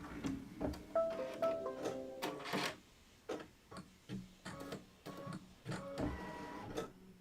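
A quilting machine stitches fabric in quick, rhythmic bursts of mechanical clatter and whirring, pausing briefly between runs, close and moderately quiet with no talking.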